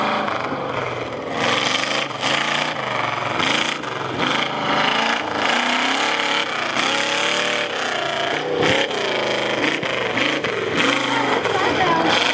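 Race car number 104 rounds a wet pond corner at a rally-style event, its engine roaring loud and steady with shifting revs throughout, while someone talks over it.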